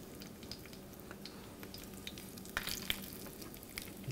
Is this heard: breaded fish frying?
yes